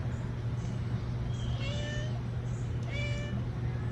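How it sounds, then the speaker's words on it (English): A cat meows twice, clear rising calls a second or so apart, close by over a steady low hum. "She don't usually be meowing at me."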